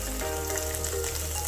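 Garlic stir-frying with onion, tomato and mushroom in a hot pan, a continuous close crackling sizzle with a steady hum beneath, no talking.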